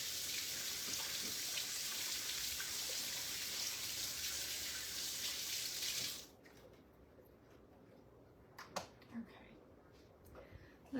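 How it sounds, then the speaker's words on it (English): A kitchen tap runs steadily for several seconds as hands are washed, a close hissing stream that then cuts off, leaving a quiet room with a few small clinks. "Wash my hands."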